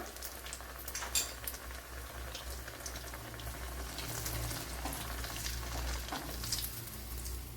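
Banana cutlet, ripe plantain dipped and coated, frying in hot oil in a pan: a steady, fairly soft bubbling sizzle that runs without pause, with a few brighter crackles and no voices.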